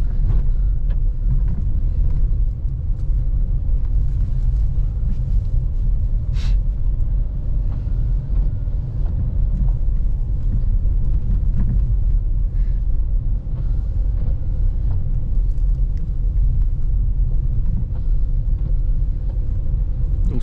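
A Dacia Duster 1.2 130 hp 4x4 rolls along a dirt track in second gear at about 25 km/h as snow begins, its engine and tyres giving a steady, loud low rumble throughout, with no voices.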